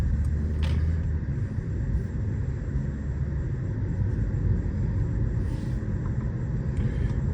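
A Mercedes-Benz C 200 with an AMG-style body kit driving, giving a steady low engine and road rumble heard from inside the cabin, continuous and even throughout with faint clicks over it.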